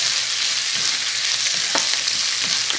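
Spices fry with onions in hot oil for a Balti chicken curry, making a steady, loud sizzle with a few soft stirring knocks mixed in.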